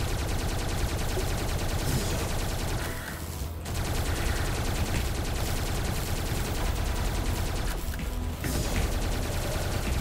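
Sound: gunfire from a gun in the video game Tesla Force

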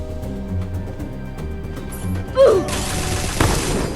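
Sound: upgraded M60 machine gun firing in a video game

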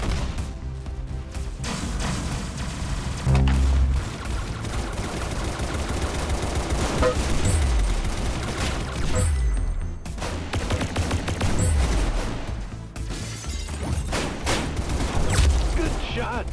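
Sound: gunfire in the video game Roblox Arsenal

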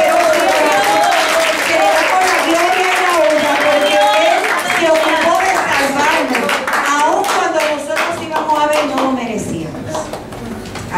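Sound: congregation applauding

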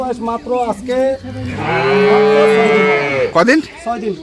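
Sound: cow calf mooing

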